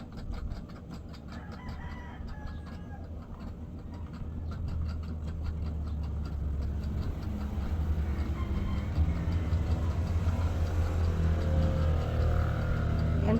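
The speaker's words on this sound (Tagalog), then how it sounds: "ang daming mga sasakyan na dumadaan, mga palangga. Labi na jud motorsiklo." Steady traffic of passing cars and motorcycles on a road, a continuous rumble of engines that swells and grows closer and louder toward the end, while roosters crow and chickens cluck nearby.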